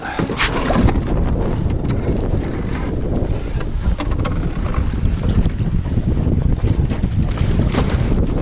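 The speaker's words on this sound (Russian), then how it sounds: "Попробуем, перейдем на нашей маленькой лодке." Small boat motoring across a river through choppy waves, with strong wind buffeting the microphone, steady and loud throughout with splashing waves.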